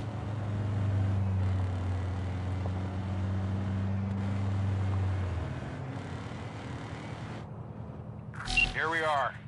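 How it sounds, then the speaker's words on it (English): A boat engine in Cyberpunk 2077 drones steadily as a low hum for about five seconds, then cuts out, leaving quieter ambience and a brief louder burst near the end; voices talk over parts of it. "Go ahead, kill the engine."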